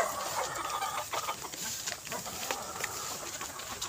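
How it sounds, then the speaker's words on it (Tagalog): Several chickens cluck and squawk close by in a busy, overlapping chorus, with some rustling and faint human sounds mixed in. "salubong na yung mga manok sa akin"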